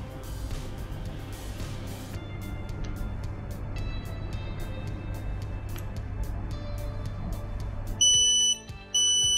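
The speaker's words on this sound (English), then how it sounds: "So it will be alarm and ringing like this." An H2S T40 gas monitor sounds its alarm during calibration, a piercing electronic beeping that builds to loud, pulsed tones near the end over a steady background hum.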